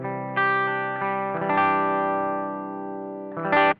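Electric guitar played softly through a BOSS ST-2 Power Stack pedal, giving a mild crunchy distortion. A few sustained chords ring out, with a brighter strum near the end and no voices.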